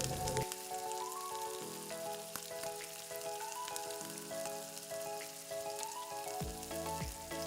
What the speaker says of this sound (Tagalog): Kapag mainit na itong ating olive oil or cooking oil, isutay na po natin ang bawang.